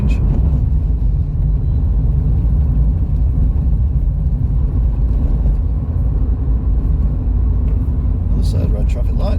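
Heavy low rumble of a nearby car with a rough-sounding engine, heard steadily from inside a vehicle on a lockdown drive along the M60 and M61, with a voice talking over it.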